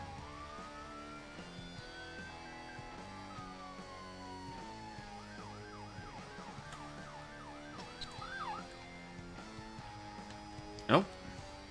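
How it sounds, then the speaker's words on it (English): Ambulance siren in the Emergency 4 Montana mod game, its wailing rising-falling tone heard mid-clip under game music and sound effects, ending with a sharp loud burst. "Let's get an ambulance out."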